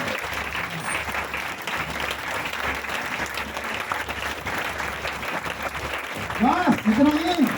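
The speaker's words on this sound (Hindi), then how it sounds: "जोरदार ताली विजय सर के लिए।" Audience applauding for Vijay Sharma at a DXN business gathering in Uttar Pradesh, steady dense clapping throughout with a burst of cheering voices rising near the end.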